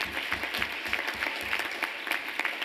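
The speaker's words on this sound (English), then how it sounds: "Please give them a great round of applause." A crowd applauds the architects at the ICA Watershed ribbon cutting, dense clapping with a few louder individual claps standing out, continuous throughout and no speech.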